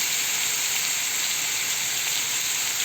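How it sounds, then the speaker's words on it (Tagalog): Beef sautéing in a pan for a Moroccan tagine, a steady, even sizzle and hiss held at constant loudness throughout, close and with no talk over it. "Ayan, nilagay ko na yung beef. Sote mo na yan."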